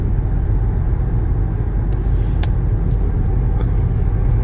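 A car drives fast down a road, a steady close low rumble of engine and road noise with no pauses.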